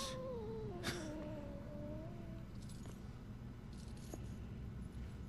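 Cat meowing in the video game Murdered: Soul Suspect: a drawn-out, wavering meow in the first two seconds, then quieter, over a steady low ambient hum with faint clicks.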